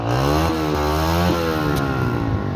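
A loud, close motorcycle engine revving continuously in Mombasa, Kenya, its pitch rising and falling with each twist of the throttle.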